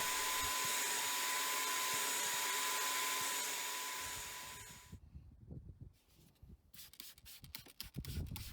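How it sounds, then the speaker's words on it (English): A Bissell Spot Clean Pro upholstery extractor drones steadily with a high whine for several seconds, then cuts off, leaving quieter scrubbing and rubbing noises in a car interior. "if you're looking for a cheap seat extractor, I would definitely recommend the Bissel Spot Clean Pro"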